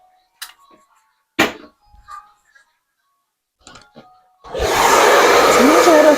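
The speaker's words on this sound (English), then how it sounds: "Blow it with a blow dryer." A blow dryer switches on and runs with a loud, steady roar while drying hair during a wig install, after several faint knocks and shuffles in a quiet room.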